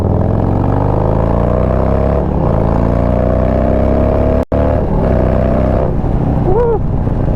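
Harley-Davidson Street Bob cruiser motorcycle engine revving hard and close, a loud continuous throaty drone rising and falling in pitch through several throttle blips, with a brief cut in the middle.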